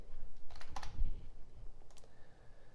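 Keyboard keys clatter in a short quick burst of typing on a computer, close and fairly quiet, then a couple of lighter clicks follow against faint room noise.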